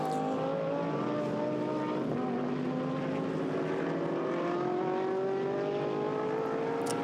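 A GT race car at the Nürburgring during Blancpain Endurance Series free practice drones steadily past the start and finish area, its engine note rising and shifting pitch as it goes by at moderate distance.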